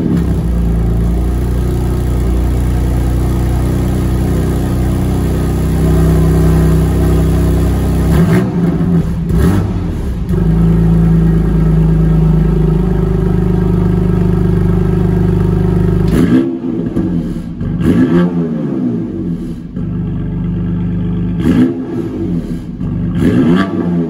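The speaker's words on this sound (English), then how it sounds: "let's get an engine startup for this vehicle so you guys know exactly what it sounds like." A 2021 BMW M2 Competition with manual transmission starts up and revs inside a showroom, loud and close, with repeated sharp throttle blips rising and falling over a rumbling idle, echoing off the walls.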